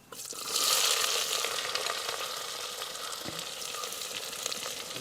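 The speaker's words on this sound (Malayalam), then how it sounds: "ഉള്ളി നമുക്കൊന്ന് നന്നായിട്ട് വറന്ന് ഒന്ന് ബ്രൗൺ കളറായി വരട്ടെ അതുവരെ നമുക്ക് ഇളക്കി കൊടുക്കാം" Dried lemons, finely chopped garlic and onion fry in a pan for Arabian chicken madhooth, a steady loud sizzle that swells early and stays dense, with faint stirring scrapes underneath.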